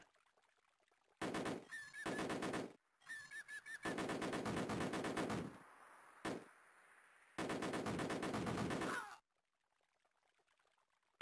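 Gunfire in a retro shooting game run on MiSTer FPGA hardware, hammering at a building in loud rapid bursts of chiptune-style shots, several long salvos separated by short silences, with a brief whistling tone between some bursts.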